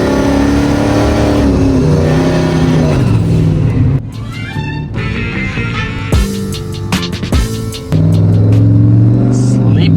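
A cammed LS2 Pontiac GTO idles and warms up with a loud, lumpy engine rumble that dips and returns, while people talk nearby over it.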